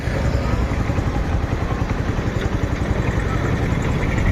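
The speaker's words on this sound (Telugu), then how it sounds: "ఇంజన్ అయితే రన్నింగ్లో ఉందండి ఇంజన్ అయితే రన్నింగ్లో ఉంది చూడండి" A TVS Sport motorcycle engine idles steadily and loudly throughout, a continuous low rumble with a faint rhythmic chug and no pauses.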